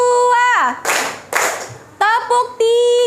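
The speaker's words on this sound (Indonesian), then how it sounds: "kita ice breakingnya tepuk ya" A primary-school class plays a clapping ice-breaker game, with two bursts of group clapping in rhythm between loud chanted children's and teacher's voices.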